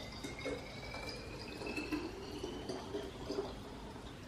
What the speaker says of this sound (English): I'm going to fill it with my Brita filter water.